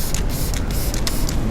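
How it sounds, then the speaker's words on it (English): Several quick hissing bursts of a spray bottle spraying cleaner onto a cloth to clean kerosene off a bike chain, short and close, repeated in an uneven rhythm over a continuous background rumble. "I'll spray to the cloth"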